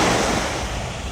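Sea waves breaking on a city beach at Jomtien in Pattaya, a steady loud surf wash mixed with strong wind buffeting the microphone, with no voices.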